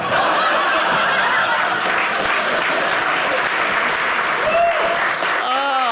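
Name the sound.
comedy club audience applause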